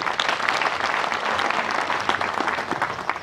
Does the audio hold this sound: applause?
yes